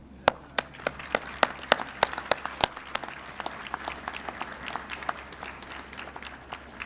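Audience applause welcoming someone back onstage at a university dedication ceremony: a small crowd clapping in sharp, fairly near individual claps that start strong and thin out toward the end, with no talk.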